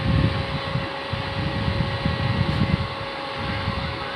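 A battery-powered USB mini fan runs at its third speed setting, giving a constant close rush of air with a thin motor tone underneath. Gusty buffeting on the microphone comes and goes.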